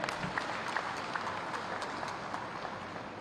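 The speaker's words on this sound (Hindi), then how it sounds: "तालियों की गड़गड़ाहट से हम सब अपना कृतज्ञता ज्ञापन आपके समक्ष प्रस्तुत करते हैं" Applause from a seated crowd at the inauguration of an international carpet fair in Bhadohi, a steady dense patter of many hands clapping throughout, moderately distant and without talk.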